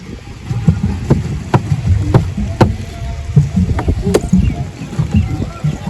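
A pedal boat churns across open water in a regular, rhythmic paddling pattern, set against wind buffeting the microphone, with faint voices in the background.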